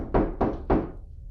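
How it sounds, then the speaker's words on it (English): Three firm knocks on a door, evenly spaced and close, each a hollow thud that fades quickly, with no voices. "I heard a knock at my door"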